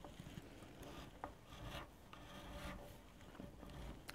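A hand file rasps across a wooden guitar part being shaped, giving soft, continuous scraping strokes at close range with brief brighter passes, no talking.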